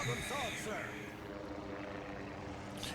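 Carrier aircraft fly overhead in the World of Warships naval video game, making a steady propeller drone. Brief vocal sounds come at the start, then the engine hum continues alone.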